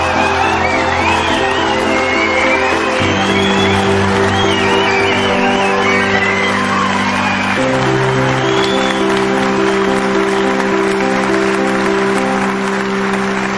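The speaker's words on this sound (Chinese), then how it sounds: "让我们再次掌声" Studio audience applause and cheering at a TV talent show stage, a steady, dense wash of clapping and whoops that runs the whole time beneath sustained music.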